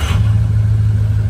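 Ford 6.0 Powerstroke diesel truck engine fires up and settles into a deep, steady low rumble, close and loud, with no talk.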